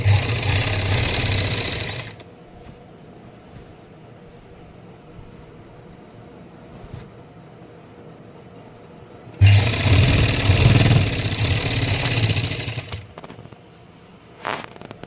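A sewing machine stitching a belt onto a salwar runs in two loud, close bursts of rapid whirring, separated by a quiet stretch of faint handling sounds.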